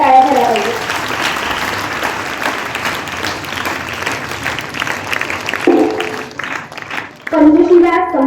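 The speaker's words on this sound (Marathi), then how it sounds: "एकदा त्यांच्यासाठी जोरदार टाळ्या झाल्या पाहिजे." Loud applause from schoolgirls at a school event, a dense steady clatter of many hands filling most of the stretch, with brief voices breaking through near the middle and end.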